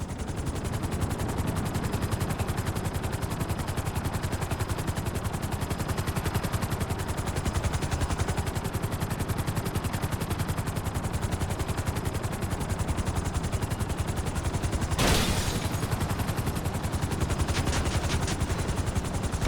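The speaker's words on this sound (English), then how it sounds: "Bring the helicopter down gently onto the helipad." A helicopter in Grand Theft Auto V flies with a loud, steady, rapid rotor chop and engine drone that runs continuously throughout, with one brief sharp burst partway through and no talk.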